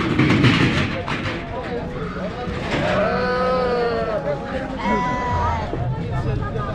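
Shorn sheep bleating in drawn-out calls, close by, over a dusty background of crowd murmur and voices at a rural street market in Kashgar, Xinjiang.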